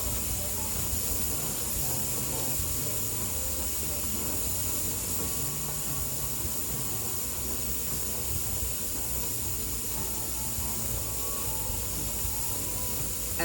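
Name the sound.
steam venting from pressure canner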